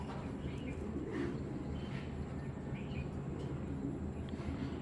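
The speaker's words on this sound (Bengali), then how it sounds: "দেখেন সাইজ কী মার্শাল্লাহ দানব ভাই একটা কবুতর দানব" Soft, repeated pigeon coos drift over a constant low rumble of background noise, with no talking.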